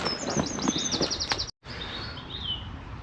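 Small birds chirp and tweet in quick repeated phrases nearby in woodland, then a brief cutout, followed by fainter chirping over a steady outdoor hiss.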